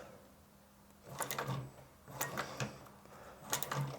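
Sewing machine back stitching along the edge of a leather shoe upper with an edge guide, three short bursts of stitching about a second apart, close and moderately quiet.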